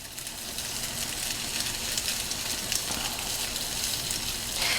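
Cheese fries in a non-stick pan, producing a continuous fine sizzle and crackle at steady moderate loudness, with no voices.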